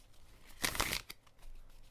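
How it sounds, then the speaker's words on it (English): A slightly stiff tarot card deck being shuffled by hand, one short, close burst of riffling and crinkling paper with quieter handling rustles around it and no talk. "So let's do a little bit of shuffling."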